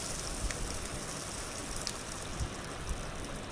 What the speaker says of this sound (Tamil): கட் பண்ணி வச்சுருந்த இஞ்சி, பச்சை மிளகாய் இது ரெண்டுத்தையும் சேர்த்து நல்லா வதக்கிக்கலாம்.